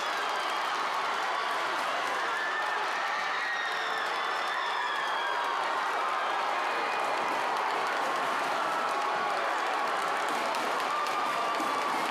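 Home crowd at a boys high school basketball game in the North Hagerstown gym cheering and applauding after a late go-ahead shot, a loud, dense, sustained roar with clapping that holds steady throughout.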